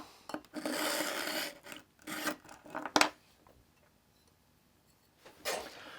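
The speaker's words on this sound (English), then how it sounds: "where I've already started bringing it through the sharpener" A knife blade is drawn through a Pocket Pal sharpener in several short rasping strokes, close and fairly quiet, separated by pauses.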